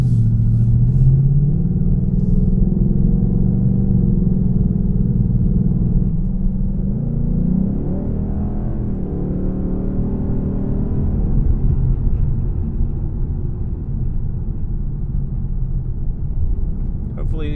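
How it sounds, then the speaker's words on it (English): Ford Mustang GT, 2020 model, pulling hard on a mountain road: a loud, steady low engine roar that swells and rises in pitch through the gears, heard close from inside the cabin throughout, with no talk. "Hopefully these binaurals are picking up that incredible engine note."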